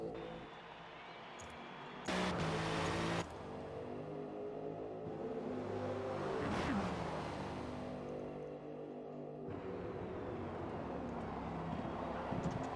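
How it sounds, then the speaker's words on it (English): Engines of GT3 race cars roar steadily in a racing game as the pack powers out of the Hockenheim hairpin, with a brief louder burst and a rising sweep as cars pass close by. "as they go through the hairpin and start accelerating back out"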